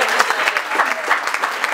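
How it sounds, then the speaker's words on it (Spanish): A short burst of dense, close crowd applause at a youth church gathering, steady clapping lasting under two seconds. "Dale un aplauso a Cristo."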